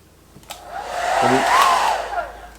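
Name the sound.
hair dryer on high heat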